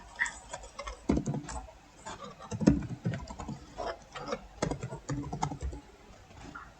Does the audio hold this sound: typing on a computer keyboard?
yes